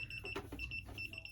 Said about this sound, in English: how do I turn this bloody beep off?